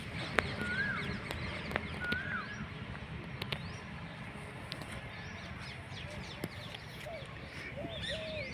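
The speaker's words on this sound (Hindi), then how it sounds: "पीछे की आप आवाज़ तो सुन ही रहे कि चिड़ियों की चहचहाट," Evening birdsong with chirps and parrot-like calls at a farm with drip irrigation, scattered short whistles and squawks at moderate distance under constant background murmur and voices talking.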